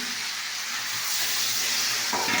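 Cumin powder and chili powder frying in a pan give a loud, steady broadband hiss that holds unbroken for a couple of seconds, close up, with a slight shift near the end and no talking.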